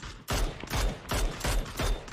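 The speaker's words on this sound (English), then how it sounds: "I'm shooting him." Bursts of gunfire from a battle-royale squad match, loud and close, firing in four or five rapid strings separated by brief pauses, with no voices over it.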